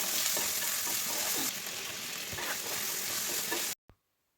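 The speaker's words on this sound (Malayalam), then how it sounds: "അമ്മ ആദ്യം കുറച്ച് എണ്ണ ഒഴിച്ചിട്ട് ചേനയിട്ട് നന്നായിട്ടൊന്ന് വഴറ്റിയെടുക്കും." Cubes of elephant foot yam sizzle in hot oil as they are sautéed for avial, a steady crackling hiss with occasional stirring scrapes, close-up and without speech before it cuts off abruptly near the end.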